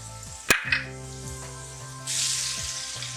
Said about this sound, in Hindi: प्याज फ्राई हो गई है